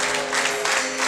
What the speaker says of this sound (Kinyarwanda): muhuze ibiganza n'impundu z'Urwanage